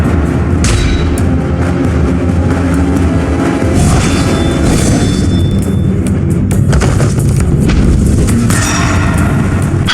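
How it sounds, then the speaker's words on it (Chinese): Heavy, dense booming blasts as poison detonates inside enemies from a toad-style skill in the martial-arts action game Where Winds Meet, loud and continuous with layered impacts and rumbling thuds throughout. "蛤蟆功引爆敌人体内的毒物，伤害直接爆炸"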